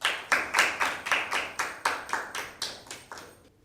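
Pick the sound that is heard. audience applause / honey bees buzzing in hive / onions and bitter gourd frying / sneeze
audience applause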